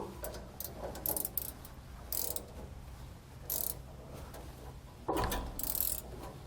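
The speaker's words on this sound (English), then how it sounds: "The 15mm wrench will go on the nut, and the 1/4 inch wrench will hold the shaft to keep it from spinning while you're tightening it down." A 15mm wrench tightens the nuts of a Roadmaster Reflex steering stabilizer on a 2019 Jayco motorhome, making soft, irregular bursts of ratcheting clicks separated by pauses.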